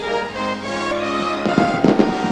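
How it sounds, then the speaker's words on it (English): Fireworks over the Lincoln Memorial in Washington, D.C., at the 1976 bicentennial, with a few muffled bursts popping under a steady music bed. "Fireworks exploded above the Lincoln Memorial in Washington, D.C., and across the country"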